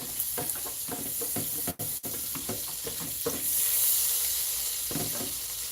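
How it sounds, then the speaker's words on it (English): Scraping the bottom of a sizzling pan of oil while starting a roux for Swedish meatballs, steady frying hiss with repeated close scraping strokes, two brief dropouts midway, no voices. "I'm just going to scrape off the bottom to get all that flavor"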